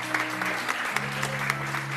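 Congregation applauding during a church worship service, brief clapping over sustained music tones and a steady hum in the room.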